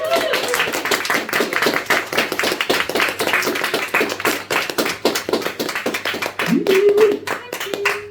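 Audience clapping after a live poetry reading, a ragged mix of individual hand claps close by with cheering and voices throughout.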